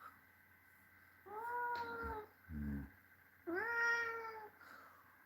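A cat lets out two drawn-out, wavering meows close by, separated by a brief low sound in a quiet room.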